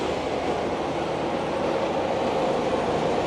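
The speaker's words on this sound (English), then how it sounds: "The scenic trains arriving at the station." A Kuranda Scenic Railway train pulls into the station near Cairns, Australia, giving off a steady, even rumble and broad hiss that holds at a constant loudness throughout.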